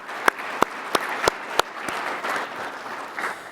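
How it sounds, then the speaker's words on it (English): An audience at an industry conference and expo claps, starting with a few loud separate claps at a steady rhythm before it thins into light, scattered applause from a modest crowd. "join me in a round of applause for all the folks that I mentioned."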